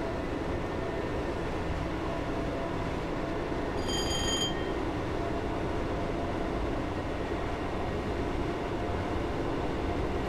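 A Train Simulator 2018 passenger train on the London Liverpool Street to Shenfield route: constant loud rumble of wheels on rails throughout, with a brief high squeal around the middle.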